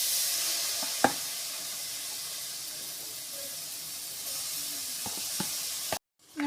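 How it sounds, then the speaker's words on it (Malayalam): Clams hiss and sizzle steadily in a hot pan with garam masala and pepper for a Kerala-style clam roast, with a few light clatters and a sudden stop near the end. "നമുക്ക് റോസ്റ്റ് ചെയ്യാനുള്ള കക്ക ഇതിലേക്ക് ഇടാം."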